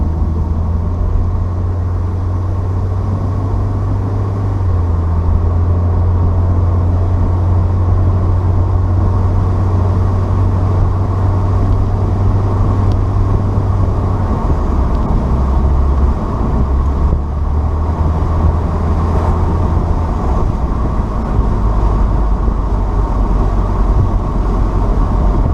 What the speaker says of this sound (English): Driving the countryside.